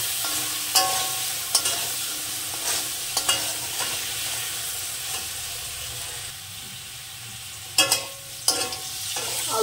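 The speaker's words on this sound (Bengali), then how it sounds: "এবার আলুটাকে আমি সুন্দর করে লবণ হলুদ দিয়ে ভেজে নেব।" Potatoes seasoned with salt and turmeric sizzle steadily in a pan, with several sharp scrapes and knocks as they are stirred, loud and close with no talking.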